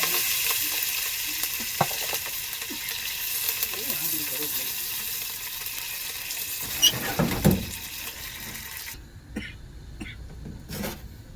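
Curry leaves hit hot oil already crackling with mustard seeds, cumin and fenugreek in roadside lorry-style fish curry cooking, giving a close, bright sizzle that flares sharply partway through and then drops to a quieter spatter, with a brief cough.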